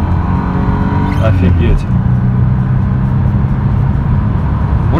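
An Audi 2.6 ABC engine with variable intake manifold geometry pulls hard near 4000 rpm, a loud, steady, close engine drone with a slight rise in pitch under the acceleration, and someone speaking briefly over it.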